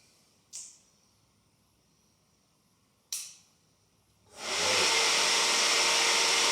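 Two short sharp clicks a few seconds apart, then a rising electric whir that settles into a steady hum, like a fuel pump priming, as the ignition and fuel pump of a rebuilt wrecked Ducati V2 Bayliss motorcycle switch on.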